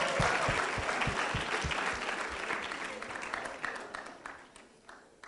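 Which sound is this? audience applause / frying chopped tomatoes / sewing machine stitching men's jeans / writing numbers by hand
audience applause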